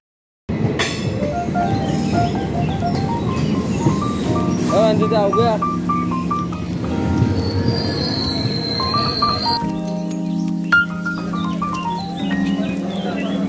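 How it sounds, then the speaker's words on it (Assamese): A passenger train pulls into a station, its wheels squealing loudly and steadily against the rails, with changing high-pitched screeches as it slows and voices murmuring nearby. "বহাগী ট্ৰেইন আহি গ'ল"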